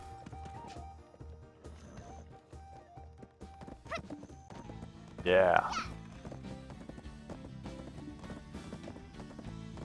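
Rhythmic horse hooves clip-clop at a gallop in Black Desert Online, amid game music and effects, with a brief whinny-like burst midway and someone speaking French over it.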